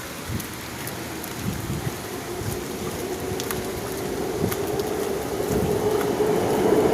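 Steady heavy rain pours down, building slightly in loudness, with scattered drips and patter close by and a low rumble underneath.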